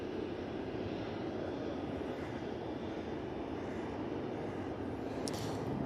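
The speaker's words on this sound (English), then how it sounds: "I will tell you in a moment where that EasyJet A320 is off to" An EasyJet Airbus A320 airliner at Manchester Airport gives off a steady, faint engine roar and rumble from a distance, holding constant throughout with no talk.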